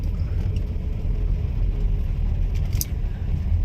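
Vehicle driving out of a village and climbing a cement road, a loud continuous low engine and road rumble up close, steady throughout with a faint rattle near the end.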